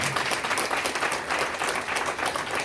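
A church retreat audience clapping hard together, dense sustained applause from a crowd filling the room at close range, with no pauses.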